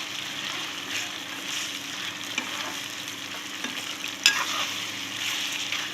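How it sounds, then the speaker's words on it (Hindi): Chicken frying with ginger garlic paste in a pot for biryani, a steady close sizzle with occasional spoon scrapes and one sharp clink, no voices. "ये जब तक हमारा गोश्त फ्राई हो रहा है"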